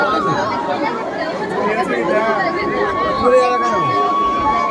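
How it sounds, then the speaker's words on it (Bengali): Crowds at Kalyani Ghoshpara railway station during Durga Puja make a dense babble of many overlapping voices, with one person speaking close by over the throng. "আর ভিড়টা শুধু দেখো কল্যাণী ঘোষপাড়া স্টেশনে"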